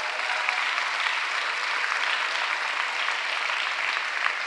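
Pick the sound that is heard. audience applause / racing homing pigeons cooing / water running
audience applause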